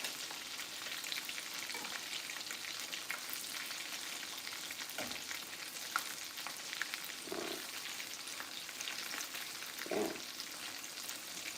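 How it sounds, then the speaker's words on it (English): Fish fries in a pan with a steady, loud, dense sizzle, broken by a few soft clanks and stirring sounds, and a voice speaks briefly once. "why are you frying that fish like this?"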